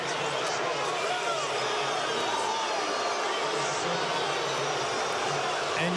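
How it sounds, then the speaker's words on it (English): A basketball crowd roars steadily at the Target Center during an NBA game, a broad, continuous wash of distant noise, with a commentator talking over it. "And you can hear the crowd here at Target Center."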